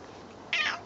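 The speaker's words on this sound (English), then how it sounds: "You're such a squeaky meow." A single squeaky cat meow, short and fairly close, rising out of quiet background hiss.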